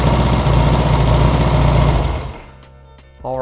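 A Honda CB200 motorcycle with an aftermarket carburetor idles at about 1500 rpm, a loud, steady, close-up putter that runs evenly for a couple of seconds before dropping away to a much quieter background.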